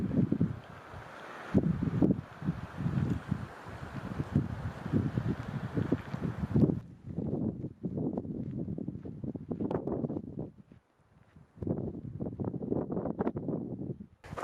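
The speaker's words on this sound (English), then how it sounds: "It's gonna get windy" Gusty wind on a mountain trail in Colorado roars across an open microphone in uneven surges, with broadband rumbling buffets rising and falling throughout.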